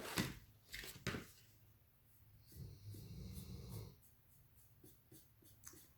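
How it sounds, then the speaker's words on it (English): Quiet room with a dog's low, rumbling snores rising and falling in slow breaths as it sleeps under a table, with a few faint taps and clicks scattered around. "She's sleeping underneath my table and she is snoring loud."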